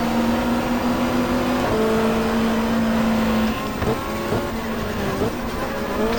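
A Hyundai super touring race car's engine drones loudly on the Mallala bullring-style circuit in GTR2, holding a steady pitch and then shifting through gears with shorter revving steps and faint tire noise.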